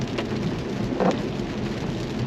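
Steady rain pours over a car during a rainy drive in an Infiniti Q50 Red Sport 400, a constant dense hiss with a slightly louder burst midway and no voices.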